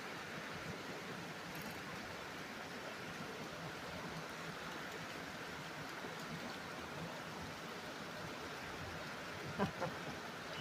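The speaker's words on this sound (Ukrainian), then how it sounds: "Такий дощ сильний." Heavy rain pouring down, a steady dense hiss of falling water with no pauses, fairly faint and even, with a couple of brief knocks near the end.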